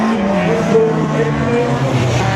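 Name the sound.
race car on a slalom track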